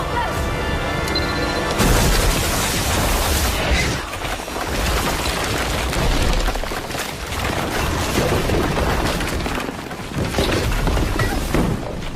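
A bomb explosion in an action film: a heavy boom followed by crashing, shattering debris and rumbling blasts that stay loud and dense throughout, with shouting voices mixed in.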